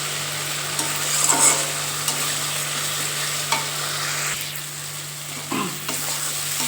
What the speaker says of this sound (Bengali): মশলা থেকে তেল বেরোবে ততক্ষণ আমি কষিয়ে যাব